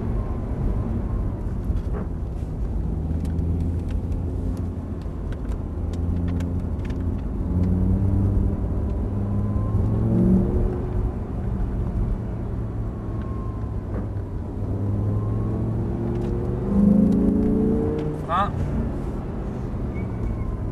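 An Audi R8 engine on a racing circuit rumbles steadily at low revs with occasional rises, while someone talks over it throughout; no sharp high-revving acceleration stands out.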